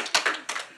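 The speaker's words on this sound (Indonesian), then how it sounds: "Tepuk tangan." A short burst of hand claps from a small group, a few quick bright slaps spread irregularly across under a second, with no talking over them.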